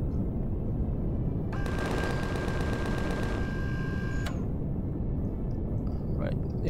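Base turrets fire on the player at an oxygen depot in Empyrion Galactic Survival, heard as a rapid rattling burst of about two seconds followed by a sharp shot, over a constant loud engine-like drone.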